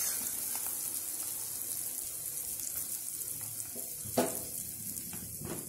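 A tempering of spices for amla ulavacharu sizzles and crackles steadily in hot oil, a soft close frying hiss with a small pop near the end, and no voices over it.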